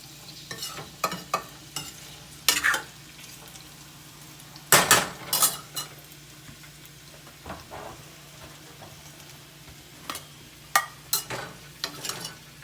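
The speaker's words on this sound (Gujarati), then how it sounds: "તેલ જીરું ને તલનો વઘાર કર્યો લીલા મરચાં થોડા નાખ્યા વાટેલા અને લીમડો નાખ્યો" Cumin, sesame seeds, crushed green chillies and curry leaves temper in hot oil, a faint steady sizzle under repeated sharp spoon clanks and scrapes against the metal pan.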